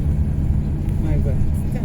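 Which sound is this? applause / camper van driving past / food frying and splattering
camper van driving past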